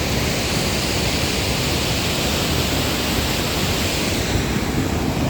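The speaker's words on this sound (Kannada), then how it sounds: "ಅಲ್ಲಿಂದ ನೀರು ಹರ್ಕೊಂಬರ್ತಾಯ್ತಲ್ಲ" A mountain river rushes under a bridge on a high road in Ladakh, a dense, steady roar of churning water filling the whole clip, loud and close with no pauses.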